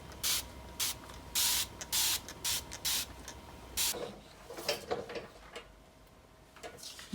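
A spray bottle mists water onto leather with a run of short, sharp hissing bursts, some in quick pairs, close and fairly quiet, followed by softer handling clatter.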